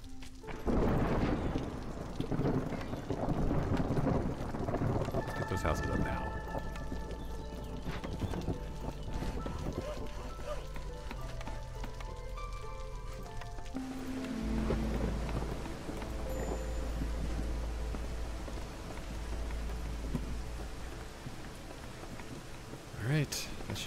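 Continuous thunderstorm and heavy rain in the city-building video game Against the Storm, a dense, steady wash of downpour with deep rumbling underneath, loud and sustained throughout.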